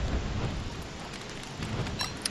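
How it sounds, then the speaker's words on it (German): Steady rain in the video game Don't Starve, a dense continuous hiss with low rumbling underneath, filling the whole stretch with no talk. "Ich hasse Regen, ich hasse es."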